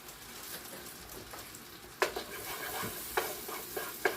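Garlic sizzles in a hot pan, a steady soft frying hiss broken by a few sharp crackles and pops as it is stirred.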